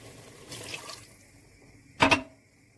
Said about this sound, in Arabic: هنحط الميه